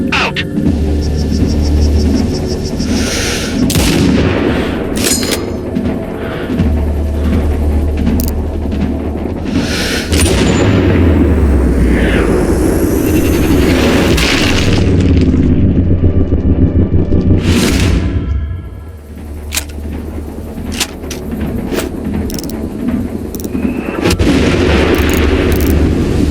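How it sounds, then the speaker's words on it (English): Mortar fire in Sniper Ghost Warrior Contracts 2: loud booming explosions and rumbling impacts land repeatedly alongside scattered gunshots, with a brief lull near the end before the barrage resumes. "Suppressing with mortar fire."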